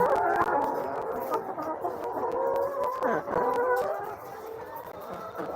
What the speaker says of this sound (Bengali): আপনারা দেখতে পাচ্ছেন এগুলো হচ্ছে লেয়ার মুরগির